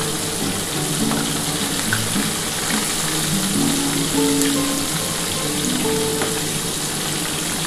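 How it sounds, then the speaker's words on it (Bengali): Tilapia fish pieces fry in hot oil with a loud, steady, continuous sizzle and crackle that stays close and unbroken throughout. "আমি 4 পিস করে ভেজে নিচ্ছি বন্ধুরা, কারণ মাছের সাইজটা একটু বড় আছে তো, তার জন্য একটু 4 পিস করে ভেজে নিচ্ছি।"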